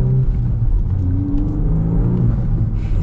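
Turbocharged engine of a manual VW Golf R 20th Anniversary hot hatch, heard from inside as a steady low rumbling drone with faint whirring as it pulls. There are no voices.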